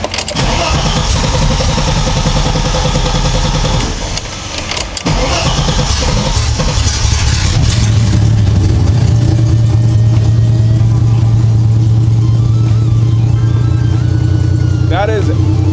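A BMW E30 with budget exhaust headers cranks and fires up, then revs and settles into a loud, rough idle with a steady low drone, close up, with talk over it.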